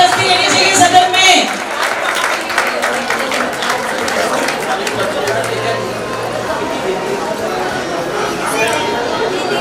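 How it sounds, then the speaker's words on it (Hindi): Loud applause fills a hall at a community gathering honoring couples married fifty years, steady clapping under crowd chatter and voices for nearly ten seconds. "जोरदार तालियां, तालियां बजती रहनी चाहिए सदन में।"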